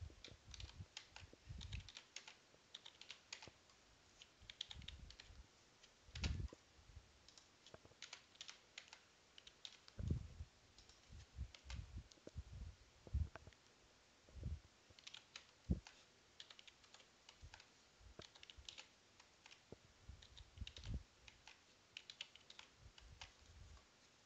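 Steady typing on a computer keyboard while working in Roblox Studio, a long run of close, crisp key clicks in uneven bursts and short pauses, quiet overall with some sharper strikes standing out.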